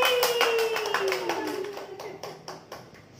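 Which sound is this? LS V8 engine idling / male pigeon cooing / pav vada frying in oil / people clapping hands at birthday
people clapping hands at birthday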